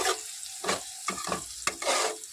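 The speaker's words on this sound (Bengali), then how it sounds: "এটা দেওয়ার পরে কিন্তু একটু নেড়ে মিশিয়ে নিতে হবে" Chili, cumin and Kashmiri chili powders being stirred into tomato in an oily pan for a Mussoorie dal and potato dish, a few short scraping strokes over a soft sizzle, close and fairly loud.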